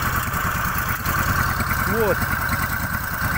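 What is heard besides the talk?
homemade snowmobile engine idling with boat carburetor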